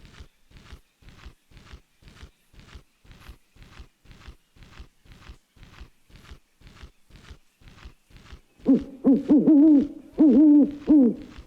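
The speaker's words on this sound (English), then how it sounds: "That was the loudest owl I've ever heard in my fucking life." A very loud, close owl hoots in a repeated wavering call in an itch.io horror video game, bursting in after a steady run of soft rhythmic thuds like footsteps.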